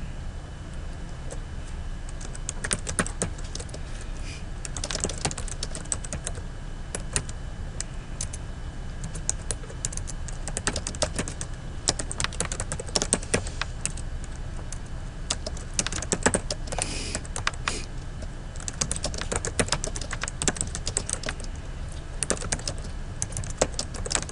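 Steady typing on a computer keyboard, close and clear, a long run of quick irregular key clicks with occasional louder taps and brief pauses, no voices.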